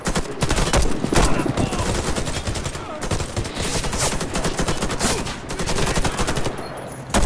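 Machine gun fire in the online shooter Warface, loud rapid bursts that repeat almost continuously with short gaps between volleys, with a voice speaking faintly in the background.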